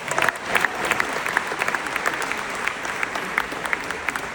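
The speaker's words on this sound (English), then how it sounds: "round of applause, guys" A crowd at a mixed martial arts event claps continuously in a dense round of applause, steady and moderately loud throughout with occasional louder individual claps.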